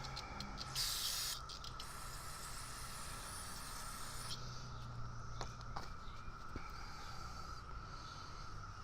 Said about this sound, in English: Wipe off that clutch material, clean that up, hit it with my parts cleaner